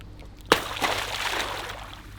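Water in a freshly dug pit beside a tiny house sloshes after a sharp splash, then keeps swirling and trickling faintly for a couple of seconds, close by and alone.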